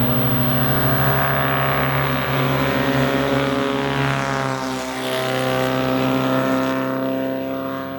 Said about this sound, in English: A perfectly tuned scavenger exhaust system gives an extraordinary sound.